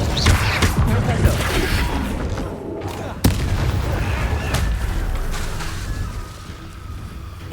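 Loud spell-combat effects from Hogwarts Legacy as the Propello force spell is cast, a dense booming rumble with a sharp crack near the middle, continuous and close, with game voices shouting through the fight.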